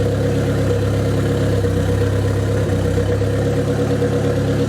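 A Nissan 200SX engine settles into idle, a steady low mechanical rumble with an even pulsing beat, close and loud with no talking.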